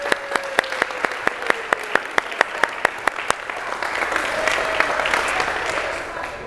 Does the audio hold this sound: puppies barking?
no